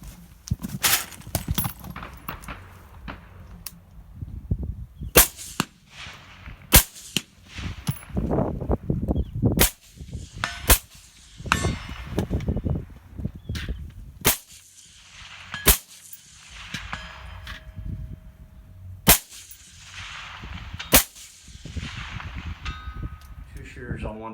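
Carbine gunfire on an outdoor shooting range during a two-day precision carbine course, sharp shots cracking out one at a time at irregular intervals, some close together, with a voice talking between them.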